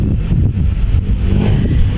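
Strong wind buffeting the microphone at a seaside beach, a steady low rumbling roar with gusty fluctuations throughout, no voices.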